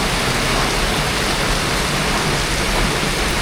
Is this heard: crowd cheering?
no